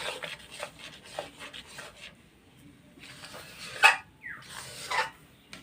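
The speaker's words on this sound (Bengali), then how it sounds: "তালের মাড়টা এবার আমি এইভাবে অনবরত নাড়তে থাকবো" Thick palm fruit pulp is stirred in a wok, giving short, intermittent scraping and rubbing bursts separated by quiet gaps, close and soft.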